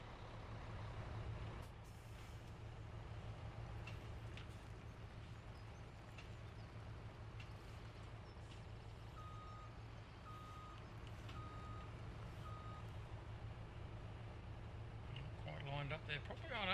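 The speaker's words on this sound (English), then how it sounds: "Now we'll grab the truck and trailer." A truck pulling a trailer in Farming Simulator 17 idles with a steady engine rumble while a reversing alarm beeps in an evenly spaced series, fairly faint, with a voice talking over it.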